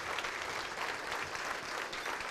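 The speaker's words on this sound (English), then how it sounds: "Nice round of applause for the staff and management here at Mr." Banquet guests at a scholarship ring dinner give the restaurant staff a steady, continuous round of clapping, heard from some distance and fairly soft, with no one speaking over it.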